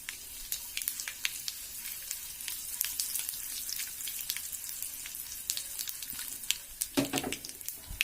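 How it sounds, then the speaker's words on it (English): Red chilies and cashew nuts frying in hot oil in a pan, a steady close crackling sizzle throughout with a brief stir or clatter near the end, no voices. "I'll add my red chilies."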